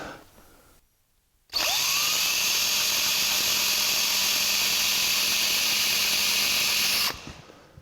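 A power tool whirs steadily and loudly at high speed for about six seconds, deburring the cut end of a steel brake line on a 1949 Chevrolet gasser, starting and stopping abruptly with no talk.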